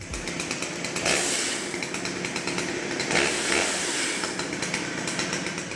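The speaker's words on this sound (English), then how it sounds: "recorded a bunch of chainsaw sounds" A chainsaw runs steadily nearby, its buzzing motor rising into louder revving surges now and then.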